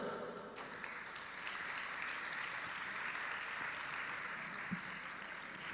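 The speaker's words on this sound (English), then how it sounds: "put your hands together and give everyone a well-deserved round of applause" Audience applause at a college annual awards ceremony, a steady wash of many hands clapping in a hall, distant and fairly faint, continuing evenly throughout.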